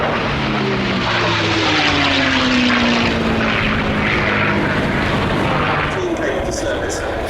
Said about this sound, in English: 8th Air Force Combine running in from our right, the TF-51D Mustang